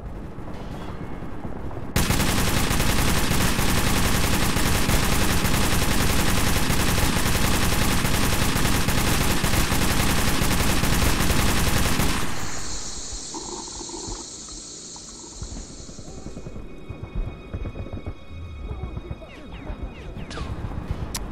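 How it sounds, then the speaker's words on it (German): Dense, sustained burst of rapid gunfire roars for about ten seconds, then cuts off, leaving quieter game effects and a steady high tone. "da kommen immer wieder Schüsse von daher"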